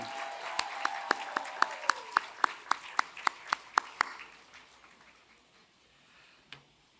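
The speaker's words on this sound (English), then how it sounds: "can we give a big round of applause to our musicians from Maine South and Golden Apple Fellow Leo Park, who leads them" At a teaching awards gala, a sustained music note fades as a dozen or so crisp, evenly spaced claps ring out in a steady rhythm, then stop, leaving a quiet room with one late clap.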